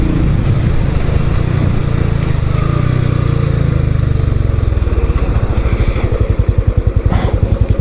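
A Royal Enfield Classic 500 motorcycle exhaust rumbles loud and close, a deep drone that slows into a distinct, evenly spaced thumping beat as the engine settles.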